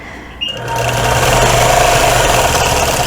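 A sewing machine stitching a quilt starts up after a short pause, then runs at a steady, fast, humming whir of rapid needle strokes, loud and close, no voices.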